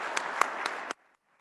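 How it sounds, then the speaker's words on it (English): A short burst of audience applause for a state patrol color guard at a commercial vehicle safety summit, steady dense clapping lasting under a second before cutting off abruptly to near silence. "let's give them a round of applause"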